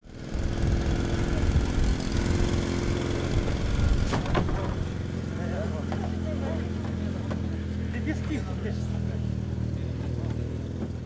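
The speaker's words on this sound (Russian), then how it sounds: "спасатели с помощью гидравлического аварийно-спасательного инструмента производит разблокировку заклиненных" A hydraulic rescue tool works at a crashed car, forcing jammed doors open and cutting off the roof during an emergency-services first-aid competition; a steady motor drone runs throughout, with occasional sharp metallic cracks and faint voices beneath.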